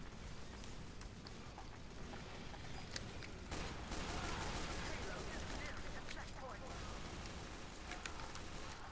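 Rapid pistol fire in Team Fortress 2, a steady run of quick, sharp shots mixed with other gunfire and explosions in a constant, noisy multiplayer battle.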